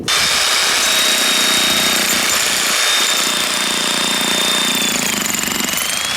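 Xtreme Power electric jackhammer breaking hard Arizona rock, a loud, continuous rapid hammering clatter close by with a steady motor whine, running without pause for the whole stretch and no talking.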